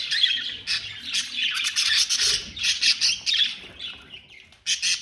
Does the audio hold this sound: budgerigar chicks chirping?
yes